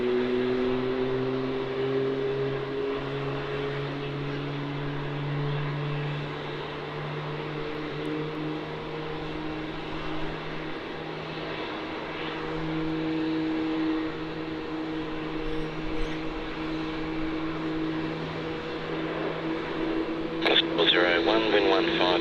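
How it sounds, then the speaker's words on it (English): Qantas airliner, flight QF671, departing Melbourne Airport for Adelaide: a steady, distant jet engine drone with slowly sliding tones lasts throughout, while someone talks over it and crackly radio chatter cuts in near the end. "On departure here we have QF flight 671 off to Adelaide, the capital city of the state South Australia."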